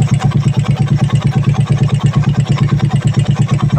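A cold Suzuki Raider motorcycle idles close by with a steady, fast, pulsing thump, a noisy carburetor flange adding a rattling, ticking clatter over the engine beat throughout.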